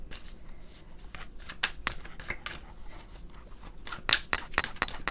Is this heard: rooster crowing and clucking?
no